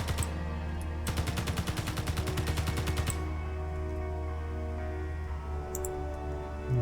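An enemy gun in Space Engineers fires a rapid, evenly spaced burst of shots for about two seconds, then stops, leaving a steady low engine drone with a few faint clicks afterward.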